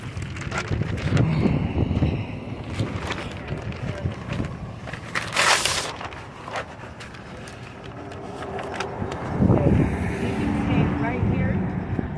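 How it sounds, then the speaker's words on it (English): Gusty wind buffets the microphone outdoors, rumbling and rustling throughout, with a louder burst midway and another near the end. "it's a little bit windy."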